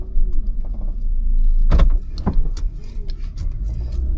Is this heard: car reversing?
yes